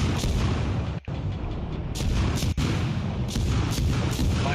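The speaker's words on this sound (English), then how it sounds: "Listen to the rapid fire of that beast." Heavy warship guns firing in rapid succession during a World of Warships naval battle, dense booming blasts rolling loud and continuous with brief gaps between salvos.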